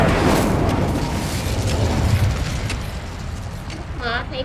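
An Incendio fire spell erupts in Hogwarts Legacy, a sustained roaring, booming blast with crackling texture that fades slightly toward the end, while a voice speaks briefly near the close.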